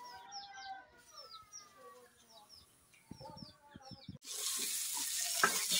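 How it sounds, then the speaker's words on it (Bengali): Tomatoes fry in a pan in a home kitchen, a loud steady sizzle starting midway and running to the end, preceded by birdsong and chicken calls with a few clatters. "টমেটো ভাজা বসাচ্ছি, এটা হচ্ছে ভেজে নিয়ে আলু দিয়ে তরকারি হবে মাখা মাখা"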